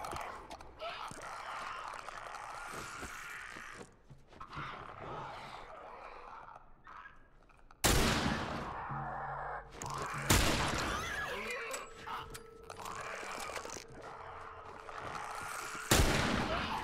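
Gunfire in The Last of Us Remastered on PS5, with sharp loud shots around eight, ten and sixteen seconds standing out over a busy, noisy game mix of scrapes and crashes.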